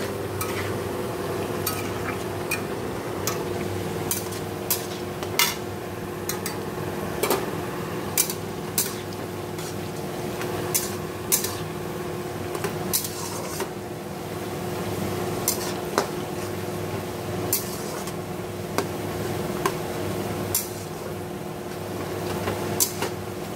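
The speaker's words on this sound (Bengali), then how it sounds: "দেখো এদিকে মাংসের পেঁয়াজটা ভাজছি" Onions for a meat curry frying in a home kitchen, a steady low sizzle running throughout with frequent sharp clinks of a utensil against the pan as it is stirred.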